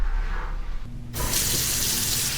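Water bursts from a hotel shower in a Miami Beach resort bathroom and keeps running as a loud, steady hiss after a brief quieter moment.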